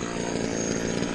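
A chainsaw runs steadily while cutting firewood, a continuous buzzing drone at moderate volume with no voices.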